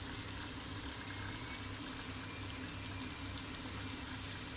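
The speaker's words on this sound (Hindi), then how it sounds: "और अब मैं यहाँ पे इसमें थोड़ा सा पानी ऐड कर रही हूँ, विच इज़ अबाउट 1 cup" About a cup of water goes into a pot of palak chicken gravy made with roughly 600 to 700 grams of chicken, giving a steady, close, hissing pour with a faint bubbling wash throughout.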